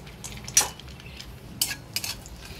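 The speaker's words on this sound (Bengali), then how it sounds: "এক চামচ মতন ঘি দিচ্ছি দেশি ঘি তাই তো করে নিলাম কাজুগুলো দিয়ে দিচ্ছি" Cashews stirred in desi ghee in a pan: a few sharp metal spatula clinks against the pan over a low background, with no audible talk.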